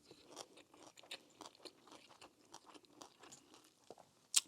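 Fried tofu kimbap is bitten and chewed up close, giving a quick series of crisp crunches in an uneven rhythm, quiet overall with one sharper snap near the end and no talking.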